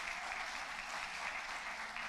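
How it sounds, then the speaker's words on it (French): Faint, distant applause from a congregation at a prayer and fasting service, a continuous even hiss of many hands clapping with no distinct individual claps. "J'aimerais que vous puissiez l'applaudir au nom de Jésus."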